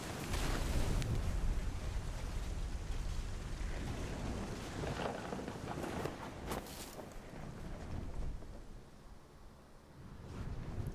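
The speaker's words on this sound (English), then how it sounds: "The thunder sounded much too close and full of angry power" Heavy rain and rolling thunder near a beach by the sea in What Remains of Edith Finch, a dense, loud wash of downpour and wind with deep rumbles swelling and fading, no voices.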